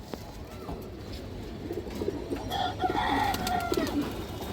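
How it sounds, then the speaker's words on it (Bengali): A large female China khaki pigeon coos in soft, repeated throaty bursts close by, against a faint background of rustling and other birds. "বড় সাইজের একটা চায়না খাকি মাদি কবুতর মাশাআল্লাহ"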